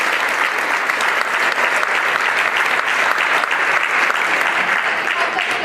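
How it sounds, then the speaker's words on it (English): A theater audience at a stage production of The Laramie Project breaks into loud, sustained applause, a dense wash of clapping that holds steady for several seconds with no voices over it. "can we give them a round of applause?"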